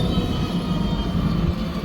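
A Qatar tram arriving at a street stop near a red tram signal, heard as a steady low rolling rumble with a faint high whine over continuous background noise.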